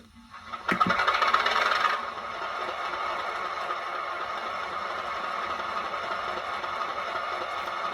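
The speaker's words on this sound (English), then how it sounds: "So put those out of the way, and we'll fire up the engine." A Hornby Class 31 model diesel locomotive in Railfreight red stripe livery, fitted with a DCC sound decoder, starts up with a brief clatter and a louder burst, then settles into a steady, somewhat echoey idling engine hum.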